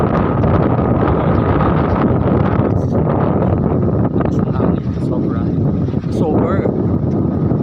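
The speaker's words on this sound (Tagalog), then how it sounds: "Lakas ng hangin" Loud, constant wind at the seashore buffeting the microphone with a roaring rumble throughout, with faint background sounds underneath.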